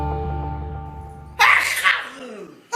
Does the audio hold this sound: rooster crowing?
no